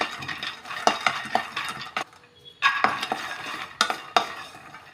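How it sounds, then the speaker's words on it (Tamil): Peanuts roast in a pan for porivilangai urundai, stirred with a utensil, giving repeated scraping and clinking strokes over a soft dry rattle and a light sizzle, close and fairly quiet. "கடலையை நல்லா ஃப்ரை பண்ணி எடுத்துக்கலாம் கடலை தனியாக வறுத்துக்கோங்க"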